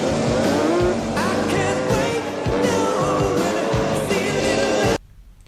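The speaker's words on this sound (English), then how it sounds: "And then they have a motorcycle chase." Motorcycle engines roar and whine through a chase scene in the film The Lost Boys, tires squealing over a busy soundtrack, then cut off abruptly near the end.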